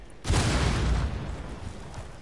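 A grenade going off in the video game Rainbow Six Siege, one sudden loud boom with a rumbling tail that fades over about a second, close by and alone.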